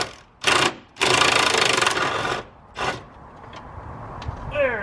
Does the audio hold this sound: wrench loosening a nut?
yes